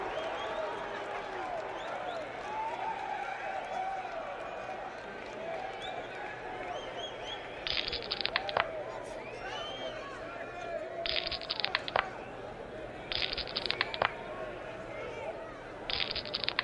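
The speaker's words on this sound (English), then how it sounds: "The crowd is eating this up." A 1950s Toronto wrestling arena crowd cheers and roars steadily, with bursts of louder noise and clapping breaking through. A commentator talks over the crowd.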